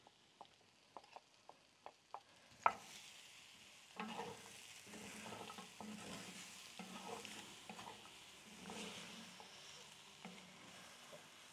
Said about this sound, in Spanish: en lo que está dorando aquí lo que le piqué, que fue la cebollita con el ajito y el chile perón